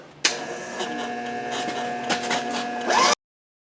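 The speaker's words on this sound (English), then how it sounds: "I'm just gonna traverse the table." A machine table traversing under power in a metal shop during a buster sword build gives off a steady mechanical whir with tonal hum, running for about three seconds at even level before cutting off abruptly.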